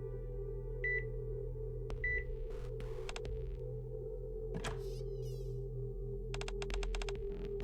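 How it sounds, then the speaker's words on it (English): Beeping robot in the video game Resident Evil: Reborn Evil, giving a few short electronic bleeps, brief chirping bursts and a run of rapid clicks over a steady low hum. "I communicate thoroughly through beeps."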